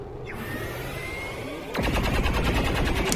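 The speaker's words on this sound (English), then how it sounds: "An Overwatch shot." Rapid automatic gunfire bursts out after a quiet ambient stretch, a loud, fast string of shots from an Overwatch reaction shot in XCOM 2, continuing to the end without speech.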